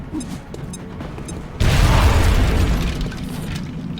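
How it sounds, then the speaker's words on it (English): A grenade goes off in XCOM: Enemy Unknown, a sudden loud close blast that rumbles on for over a second before fading, preceded by a few light clicks and ticks. "Throwing grenade."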